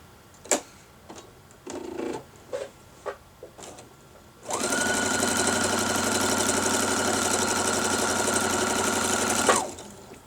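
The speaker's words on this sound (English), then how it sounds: "I make sure I sew on top of it." Sewing machine with a quarter-inch foot stitching quilt block pieces: a few scattered handling clicks, then a loud, steady mechanical whirr that runs alone for about five seconds before stopping.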